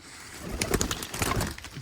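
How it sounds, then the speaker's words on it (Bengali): An old male Khulna chot pigeon coos close by in a few soft, throaty pulses against faint background noise. "আমার চট কবুতর মূল যে চট কবুতর মানে আমাদের খুলনার বিখ্যাত চট কবুতর"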